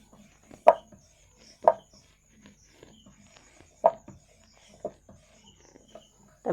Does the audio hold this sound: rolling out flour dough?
yes